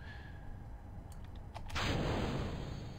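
A spacecraft in Kerbal Space Program crashes into the ground and kicks up dust: a sudden, dull broadband impact about two seconds in that swells into a sustained rushing rumble with a thin steady high tone over it.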